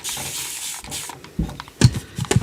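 Short hissing bursts of an aerosol spray can, a few quick sprays separated by brief pauses, close by with some handling noise.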